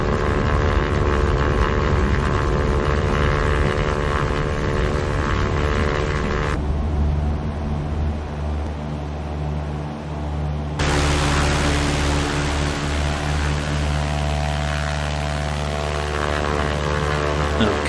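A light aircraft takes off in the X-Plane 11 flight simulator, a steady loud engine and propeller roar that drops briefly in the middle, then returns at full strength.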